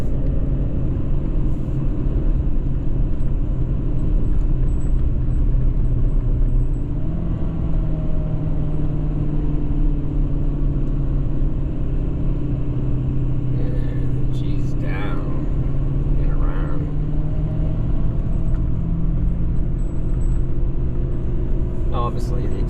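A 2017 Ford F-550 Powerstroke diesel truck with 124,000 miles pulls up a steep hill in 5th gear, its engine a loud, steady low rumble throughout, with faint brief clicks near the middle.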